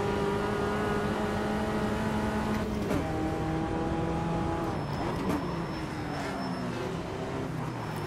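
Race cars in the sim racing game Automobilista 2 drone steadily in a close pack, engines holding and shifting pitch as the field is overtaken one after another, with no talking.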